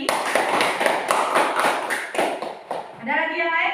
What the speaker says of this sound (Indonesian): Berikan tepuk tangan pada Dapi.